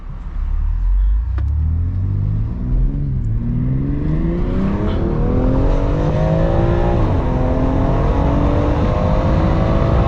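A 2020 BMW X3M SUV pulls hard through the gears from inside the cabin, engine note climbing in steady rising sweeps with a brief dip at each shift, loud and continuous with no voices.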